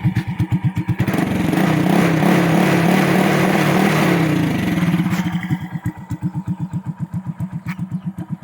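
A Honda Wave 100 motorcycle engine idles nearby with a steady, even putter, swells into a sustained rev for a few seconds, then settles back to a pulsing idle.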